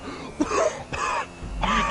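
A person coughs several times in short rough bursts, close and fairly loud, with throat clearing between them.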